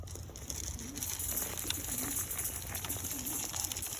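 Newly acquired pigeons cooing in a loft, several soft, repeated low coos in a steady rhythm, close by against a hissing background.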